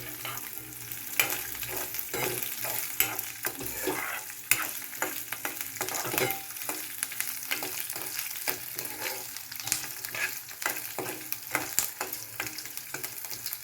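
Coconut slices and peanuts roasting in a pan, a soft steady sizzle with frequent rattling stirs as the pieces are moved about, fairly quiet, no talk.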